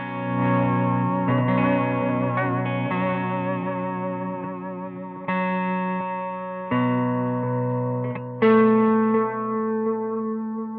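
Electric guitar chords played through a Strymon modulation pedal set to a fast vibrato, producing a rapid pitch warble on sustained strummed chords, with several chord changes; clean, close and loud with no talking.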